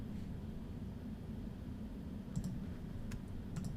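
A few faint, light computer mouse clicks, as when pressing an Apply button, tick out near the end over a low steady hiss.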